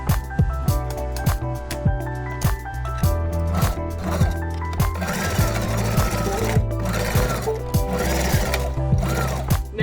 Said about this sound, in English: This is pretty thin elastic, so I'm actually just going to zigzag right over it on my machine.